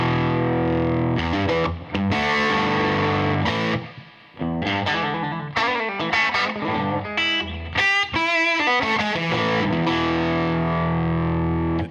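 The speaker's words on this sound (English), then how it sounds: "It does that tweed amp thing when you turn it up and it sounds like it's about to explode." Electric guitar played loud through a tweed-style amp with a single EL34 in a slightly larger cabinet: distorted, crunchy chords and riffs with brief pauses, up close and alone with no talking.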